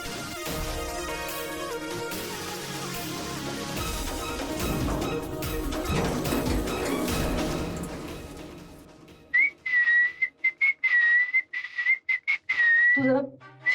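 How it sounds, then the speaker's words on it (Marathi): A person whistles a wavering, high tune in short repeated bursts in the second half, close and clear, after a stretch of background music in a Marathi TV drama scene. "तू जरा शिट्टी वाजवू नकोस हं"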